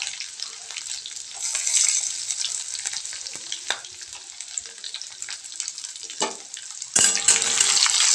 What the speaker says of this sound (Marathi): आणि कांदा छान तळून घ्यायचं